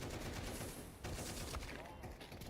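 Gunfire in a Counter-Strike match, a dense crackle of shots packed into a couple of seconds within busy game noise, with a commentator's voice faintly underneath.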